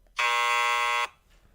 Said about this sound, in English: We've got Jackson with the abrasive classic buzzer